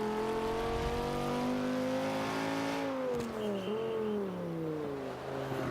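The engine of a 2005 Honda NSX-R in Forza 5, a steady revving whine close up whose pitch holds, dips at a gear change and rises again while the car drives.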